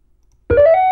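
A short electronic pixel-on sound effect from an MIT App Inventor app: a single tonal chime that starts abruptly after half a second of silence and holds steady, loud and clean, with no talking.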